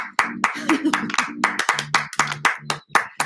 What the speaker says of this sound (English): Clapping myself again.